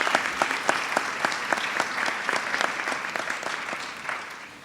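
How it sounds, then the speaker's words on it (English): Audience applause at a Florida lieutenant governor's press conference at a classical academy in Jacksonville, a steady wash of many hands clapping with distinct individual claps standing out, moderately loud and alone for several seconds. "That is something, yes, that deserves a round of applause."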